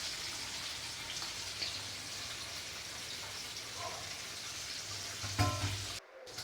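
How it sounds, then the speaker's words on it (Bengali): Hilsa fish frying in a pan, a soft continuous sizzle and crackle at moderate distance, with a brief clatter near the end before a short cut. "আর এই তো মাছটা আমি ভেজে নিচ্ছি খাওয়ার আগে"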